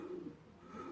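Pigeons cooing softly in an allotment loft, a steady low murmuring coo that carries on through the moment without pause, with no voices heard.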